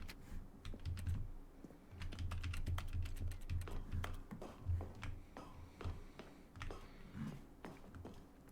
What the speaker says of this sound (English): The interact noise is just keyboard press.